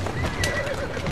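Horse in the video game Assassin's Creed Syndicate gives a short, loud whinny, heard up close and on its own.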